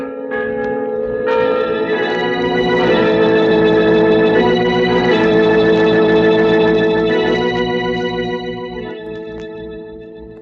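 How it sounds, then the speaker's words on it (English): Large church bells toll together in a rich, ringing clang in an old radio drama, swelling loud and reverberant before slowly fading away. "You bought those bells, now let them ring your requiem."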